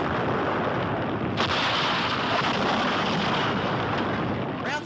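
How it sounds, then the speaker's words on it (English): A huge explosion in a 1974 Planet of the Apes TV episode, set off when guerrillas burn form feed paper: a loud, sustained roaring blast with a sharp jolt partway through, filling the clip without voices. "and there's a huge explosion."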